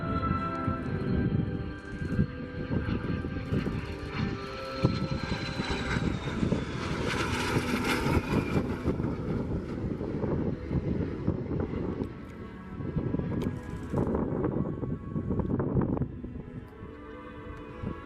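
A de Havilland Vampire jet passes at the Oshkosh AirVenture airshow, its engine roar swelling loud and broad toward the middle, then easing off into a steady distant rumble.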